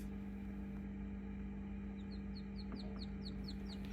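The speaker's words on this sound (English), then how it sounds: "We just hatched some chickens." Rapid high-pitched peeping from newly hatched chickens, a quick series of thin chirps over a steady low hum and background noise.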